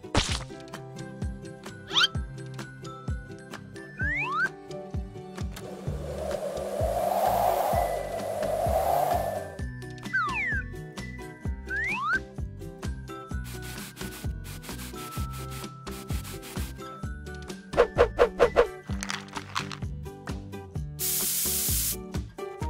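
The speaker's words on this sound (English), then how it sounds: "Spray the paint on the doll again." A spray paint can hisses in a steady burst for a few seconds, painting a paper doll, amid background music and occasional rubbing and tapping sounds.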